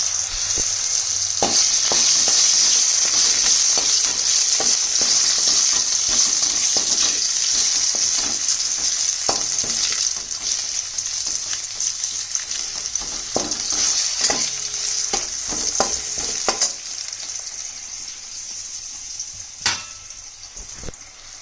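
Cut potatoes sizzling loudly in hot oil in a pan after a five-spice tempering, with repeated scraping and knocking from stirring across the whole stretch.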